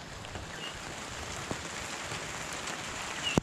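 Steady rain patters outdoors during hurricane preparations at a chicken coop, a soft continuous hiss with a few sharper drips and a brief knock near the end.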